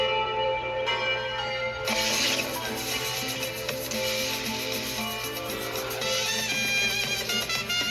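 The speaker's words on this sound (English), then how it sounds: "the cathedral bell at first light" A cathedral bell in Puebla, Mexico rings at first light, its sustained, overlapping metallic tones steady and loud throughout with no voices.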